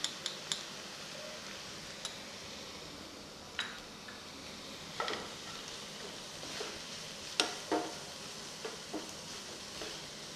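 Bread chilli with chilli powder sautéing in a pan, a soft continuous sizzle with scattered metallic clinks and scrapes of a spatula, close and quiet, no talking.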